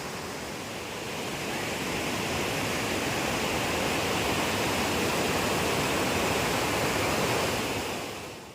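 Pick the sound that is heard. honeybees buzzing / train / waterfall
waterfall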